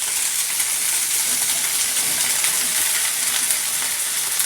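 Soybean chunks frying in a pan give a loud, continuous bright sizzle and crackle that holds steady throughout with no talking.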